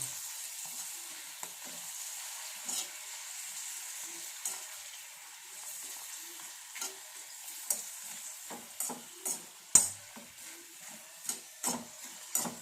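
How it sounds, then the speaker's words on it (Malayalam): Papadam frying in hot oil crackles in a faint, steady sizzle while a metal rod turns the pieces, adding scattered clicks and scrapes that grow more frequent near the end. "ഇതിലേക്ക് ഈ കമ്പിയും കൊണ്ട് ഇങ്ങനെ ഇങ്ങനെ മാറ്റി മാറ്റി ഇട്ട് കൊടുത്ത് അങ്ങനെ വറുത്ത് വറുത്തെടുത്താൽ മതി കണ്ടോ"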